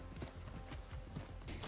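A horse's hooves clip-clop at a steady walking pace while riding in a video game, faint and rhythmic over a constant background bed.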